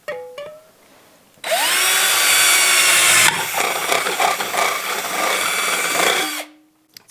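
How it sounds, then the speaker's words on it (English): A power drill with a 1/4 inch bit bores through a jar lid. The motor spins up, then grinds continuously for about five seconds, loud and close, before winding down. "So there we have our first holes with 1/4 inch drill bit sizes for the silicone."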